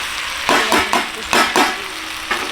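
Chicken being braised and fried for Bengali village kosha murgi, a loud close sizzle with several sharp spatula scrapes and stirring strokes spaced about half a second apart, no talk.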